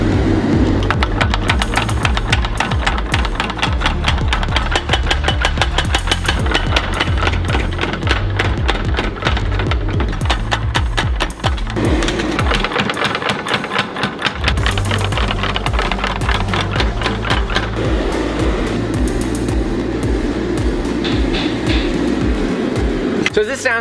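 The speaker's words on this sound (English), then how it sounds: "So I now want to start forging down some of the material behind that point." A bronze dagger blade is hammered while being forged down behind its point, with rapid, loud, close metallic strikes in dense bursts, a short pause midway, then more hammering over a steady background hum.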